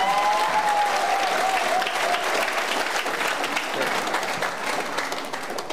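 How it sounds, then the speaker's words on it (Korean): An audience at a lawyers' association lecture in Busan applauds steadily and fairly loudly, the clapping tapering off slightly toward the end, with no talk over it. "앞으로 이런 더욱 많은 인재분들이 함께 선진 변협에 동참하라는 의미에서 더욱 격려의 박수 한번 보내주시면 감사합니다."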